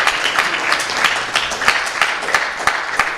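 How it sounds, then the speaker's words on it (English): An audience at a devotional gathering gives a steady round of applause, the dense clapping continuing evenly throughout without speech. "Let's give a good round of applause again."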